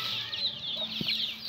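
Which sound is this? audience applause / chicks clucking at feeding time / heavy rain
chicks clucking at feeding time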